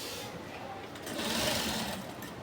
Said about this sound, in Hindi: इस पे हम अभी अच्छी सी दाब सिलाई मार देंगे।